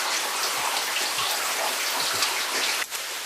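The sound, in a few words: heavy rain in western Austria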